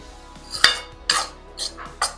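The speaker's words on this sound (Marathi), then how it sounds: "ज्या गाठी वगैरे बनल्या असतील तुम्ही ग्लासाने पण फोडू शकता किंवा चमच्याने पण त्याला फोडून घ्यायचं अशा प्रकारे" A metal spoon breaks up lumps in a mung dal ladoo mixture in a pan: four separate scraping clinks, close and clear, with no talking.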